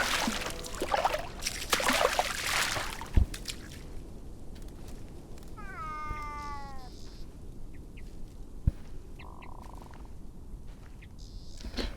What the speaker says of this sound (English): Yes, I heard a cat.